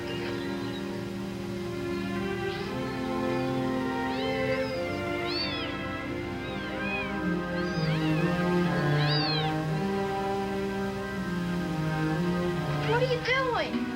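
Small orphaned kittens, weak from lack of food, mew repeatedly in thin, rising cries scattered over a soft background, with a quick flurry of calls near the end.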